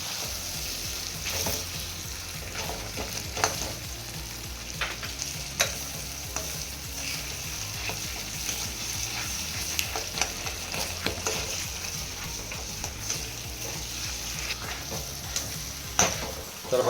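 Wild pendhra vegetable being stirred and mixed in a pan on the stove, a continuous close sizzle with scattered scraping and tapping of the spoon against the metal, no talking.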